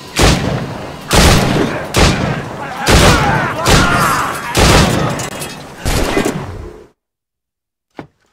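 Gunfire from muskets and cannons in the video game Assassin's Creed Rogue: five or six heavy, loud blasts roughly a second apart, each with a rumbling tail, then silence and one faint click at the end.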